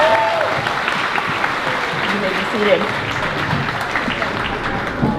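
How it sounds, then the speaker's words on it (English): Audience applauding at a fifth grade moving-up ceremony at a school, steady broadband clapping sustained for several seconds, with a voice speaking over it near the end. "One more round of applause for that."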